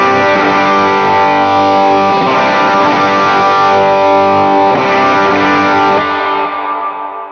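Electric guitar through an HX Stomp amp preset with the drive raised, ringing out as a loud, sustained distorted chord wash with chorus-like shimmer, fading slightly at the end.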